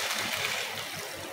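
Water is poured into a pan of potato filling that has been cooked with onions, giving a steady, close splashing and trickling that lasts the whole short moment.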